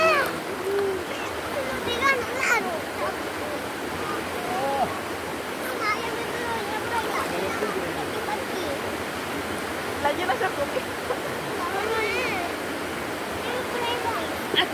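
A river flows and splashes in a steady, close rush of water, with faint voices and chatter mixed in.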